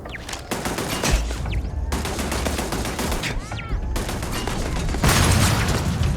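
An explosive shotgun in the Starfield video game fires repeated loud, close blasts over dense battle noise, with heavy booms marking each shot.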